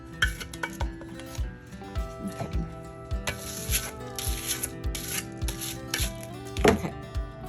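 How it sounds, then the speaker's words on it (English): A coaster is scraped during resin craft work, a series of short, close scraping strokes in an uneven rhythm over a steady hum, with one louder scrape near the end. "let me scrape this."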